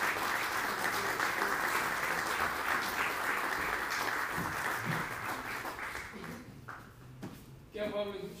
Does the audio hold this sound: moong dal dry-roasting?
no